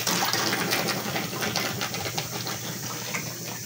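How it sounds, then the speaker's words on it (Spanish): A Mabe 10 kg washing machine pumping out water, a steady mechanical hum with gurgling flow that holds evenly throughout. "ya ahorita está botando el agua"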